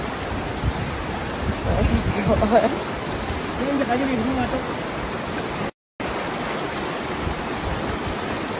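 The Tumpak Sewu waterfall roars as a constant broadband rush in the background while people talk nearby, with a brief dropout partway through.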